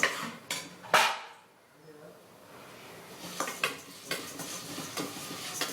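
Lentils and onions roasting in a pan for vendhaya kuzhambu, with a few loud metallic clanks of spoon on pan at first, a quiet pause, then a run of lighter scraping stirs over a faint sizzle.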